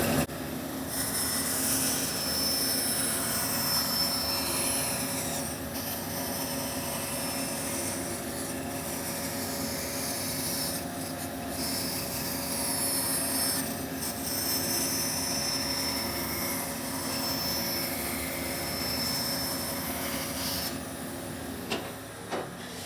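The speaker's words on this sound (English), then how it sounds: "I'm gonna go ahead and make my cut on the inside curve" A band saw runs steadily while cutting an inside curve, a continuous whining hum with a high tonal edge that dips and returns as the cut proceeds, with no talk.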